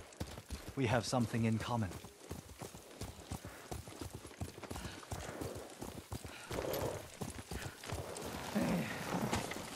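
Rhythmic clip-clop of horse hooves during a ride in a video game, a steady trotting beat running under a man's and a woman's dialogue throughout.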